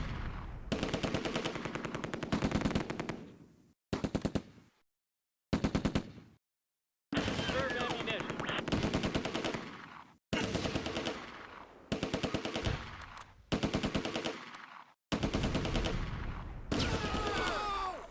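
Bursts of machine gun fire from the Close Combat: A Bridge Too Far video game, a WWII battle at Groesbeek, loud rapid rattling volleys separated by sharp silent gaps.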